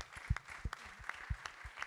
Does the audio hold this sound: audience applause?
yes